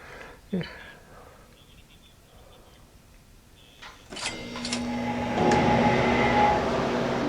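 A home freeze dryer starts up after its drain valve is shut while drying cut frozen green beans: a click and some handling noises, then a rising, steady mechanical hum and whir of the machine running close by.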